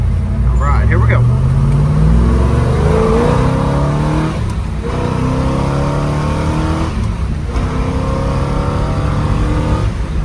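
A 1966 Chevrolet Chevelle SS 396 V8 accelerates hard, its loud engine rising in pitch through several gear shifts with brief drops between, heard from close by with a voice speaking over it.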